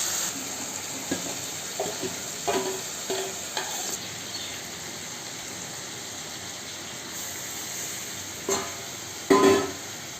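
Lote fish (Bombay duck) sizzling steadily in hot oil for a curry, a constant hiss with scattered soft clinks and taps and a louder burst of spatter near the end.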